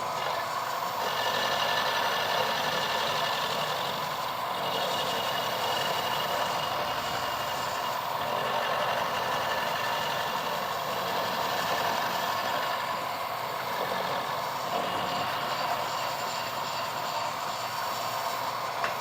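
A milling machine with a small, freshly sharpened cutter machining an alloy motorbike gearbox drain plug, giving a steady, continuous mechanical whir and hum with a faint rhythmic ticking throughout, no talking.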